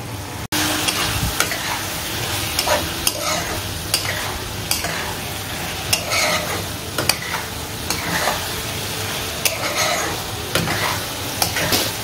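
Chicken and masala being sautéed in a pan for chicken with whole masoor dal, a loud continuous sizzle broken by frequent scraping strokes and clicks of a spatula against the pan.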